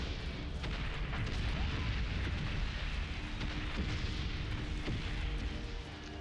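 Artillery fire in the World War I video game Valiant Hearts: The Great War, dense rumbling booms and thudding impacts that overlap continuously, with low heavy bursts and scattered sharper cracks.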